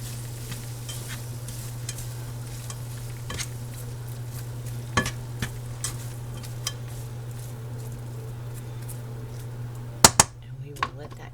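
Sliced onion frying in a pan is stirred, making a low steady sizzle with scattered scraping and tapping knocks of the utensil against the pan, louder near the end. No one speaks.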